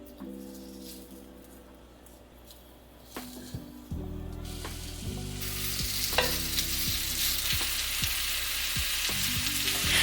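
Danish frikadeller, oval pork meatballs, are set into a hot pan one after another, each drop raising a louder sizzle that builds into steady, dense frying with faint clicks from handling, close by and with no talk.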